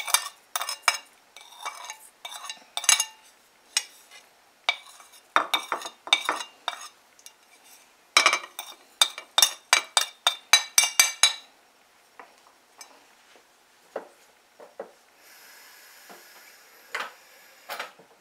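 Stir fry sauce ingredients are mixed in a bowl, heard as a quick run of close, bright clinks and scrapes from a utensil against the bowl. Bursts of irregular stirring are broken by short pauses, and a softer, hissy rustle comes near the end.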